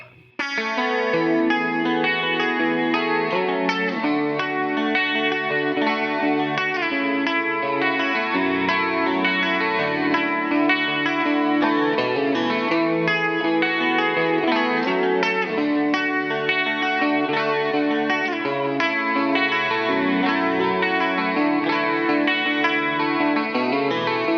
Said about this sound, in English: go through each of the pickup selections so you can hear all the tones that this Jazzmaster has to offer.